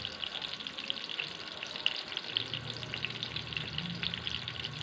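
Eggplant omelette fries in hot oil with a steady, close hiss and crackle, a low bubbling hum joining midway, no voices heard.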